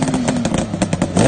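Kawasaki KH500, a 498cc two-stroke triple motorcycle from the 1970s, revs loudly up close in a short, raspy, crackling burst.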